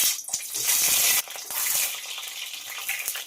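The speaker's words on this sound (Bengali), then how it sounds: "তেলটা গরম হয়ে গেছে, এবার ডিমগুলো দিয়ে দেব ভাজার জন্য।" Eggs dropped into hot mustard oil in a wok burst into loud, close sizzling that briefly dips, then carries on as a steady bright hiss of frying, with no voices.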